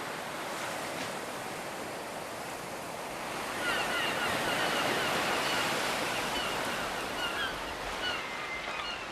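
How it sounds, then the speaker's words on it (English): Incoming tide waves wash and roll onto a shore in a continuous broad roar, swelling slightly midway, with wind buffeting the microphone. "The flaming tide's coming in!"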